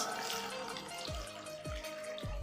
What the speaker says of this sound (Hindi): पानी का ऐड करेंगे।